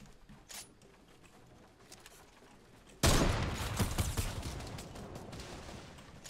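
Gunfire bursts out abruptly partway through a video game round built around a Doritos ramp rush, a dense crackling volley that holds loud and steady after a quieter opening stretch.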